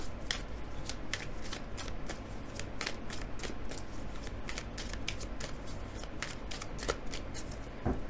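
Tarot cards shuffled and drawn, a steady run of crisp riffling and slapping card sounds close by over a constant low hum, with no talking.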